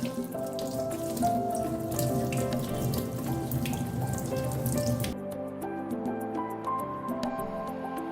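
A tap runs steadily into a sink while four arka (crown flower) leaves are rinsed under it, with splashing and dripping that thins out near the end.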